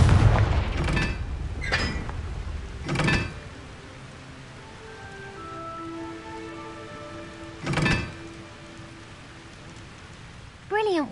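Confringo fire spell blasts in the Hogwarts Legacy video game: several loud booming bursts near the start, with further sharp blasts at about eight and eleven seconds, and tonal game music or effects ringing between them.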